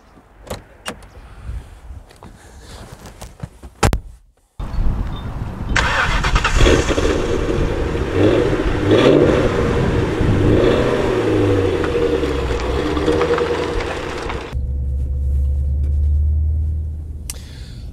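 An MG ZT260 V8 car cranks and fires up, its deep rumbling engine revving steadily after a few clicks and thuds inside the cabin, then settling to a lower idle near the end.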